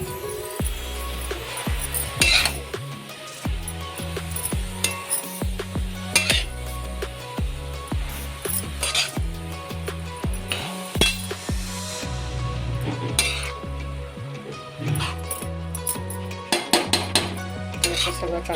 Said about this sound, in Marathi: तर इथे मी गाजर घातला आहे आतमध्ये. असं चांगलं असं हलवून घेऊया आपण.